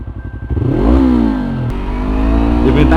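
Engine revving with rising and falling pitch sweeps, loud and close, from a motorcycle ridden with a group, blipped on request.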